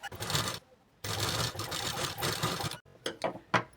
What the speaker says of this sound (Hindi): इसके ऊपर पे हमें कच्ची सिलाई लगानी है